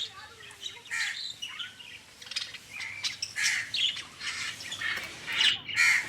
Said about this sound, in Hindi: ये मैना की आवाज़ सुनती हैं, फिर उसको जवाब भी देती हैं।